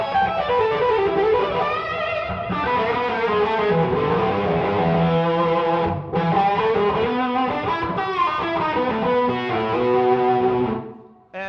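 Les Paul electric guitar through a Carol Ann JB100 Dumble-style EL34 amp with digital reverb, playing a continuous, expressive overdriven melodic line with sustained bends and chords, close and fairly loud with no talking.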